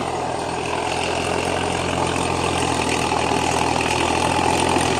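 A D50A tractor's diesel engine, about 90 horsepower and fitted with a silent muffler, idles in a steady, loud, continuous rumble with no change in pace.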